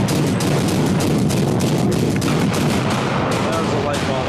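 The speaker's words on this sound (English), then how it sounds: "That was a light bomb right there." A light bomb blasts in the VR mech combat game Iron Rebellion, amid dense, loud, continuous gunfire and booming impacts that fill the whole stretch without pause.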